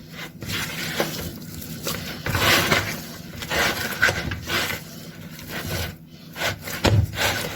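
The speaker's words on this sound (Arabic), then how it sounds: "بس اعجنها كويس جدا." Bread dough for Syrian-style pita flatbread kneaded by hand, giving close, continuous rubbing, slapping and squishing sounds in an irregular rhythm, with no talk.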